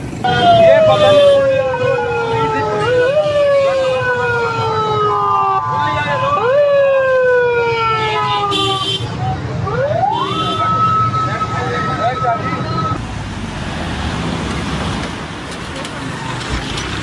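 Several loud ambulance and fire engine sirens wail and sweep up and down one after another, with traffic rumbling beneath and a steady tone near the end.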